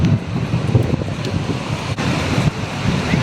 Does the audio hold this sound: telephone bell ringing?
no